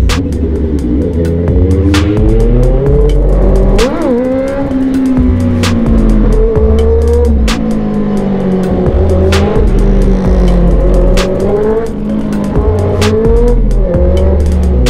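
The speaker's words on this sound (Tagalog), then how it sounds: "ito yung first ever QJ600 na nalagyan ng muffler dito sa Pilipinas" QJ600 motorcycle fitted with an aftermarket muffler, a loud close exhaust drone that rises and falls with throttle, steady throughout with brief sharp ticks.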